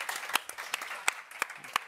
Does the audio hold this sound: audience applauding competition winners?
yes